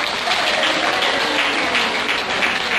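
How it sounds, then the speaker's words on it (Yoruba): A crowd claps steadily in dense, loud applause that holds at an even level throughout, at a market women's political meeting in Abeokuta, Ogun State, Nigeria. "mi kàn fẹ́ kí ẹ pàtẹ́wọ́"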